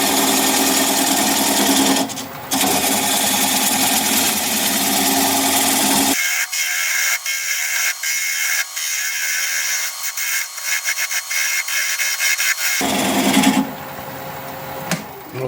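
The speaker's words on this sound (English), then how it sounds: "I'm going to grab a 3/8 inch bowl gouge and commence removing that tenon." A bowl gouge cuts a black locust bowl spinning on a wood lathe at about 600 RPM, making a steady scraping hiss. The tone shifts partway through into lighter, rhythmic ticking cuts before the heavier scrape comes back.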